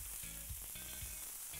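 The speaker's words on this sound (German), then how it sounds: "Und jetzt gehen wir direkt mit der Lammgotelette auf die Plancha und tun die hier mit dem Knoblauch und der Chili anbraten." Lamb cutlets sear on a plancha with garlic and chili, giving a close, steady sizzle and crackle of frying with no talk over it.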